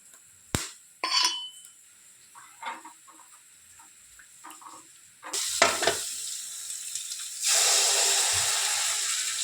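Tamarind and gojju powder fry in a pan: a few faint scrapes and clinks at first, then a loud, steady, close sizzle that swells midway and grows even stronger toward the end.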